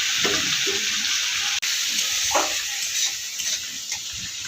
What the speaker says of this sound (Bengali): এটা একটু ভাজা ভাজা হতে দেবো